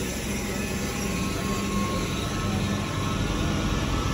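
A crowded MEMU commuter train pulls away from the platform, a steady rumbling roll with faint wheel hum, heard at moderate distance without any talk.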